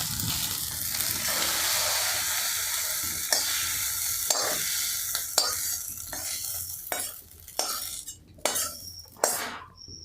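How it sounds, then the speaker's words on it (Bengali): Egg is stirred into pasta in a hot pan, with a continuous sizzle under brisk scraping and a run of sharp metal clinks from a utensil against the pan that grow more distinct toward the end. "এই ডিমটা পাস্তার সাথে ভালোভাবে মিশিয়ে নিতে হবে।"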